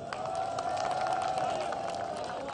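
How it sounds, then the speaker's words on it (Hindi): Audience clapping and cheering at a Sindh Police New Year event in Pakistan, a dense steady crowd sound with a tonal hum running through it for the whole stretch. "एक बार मिलके अपने लिए तालियां बजाएं आप लोग।"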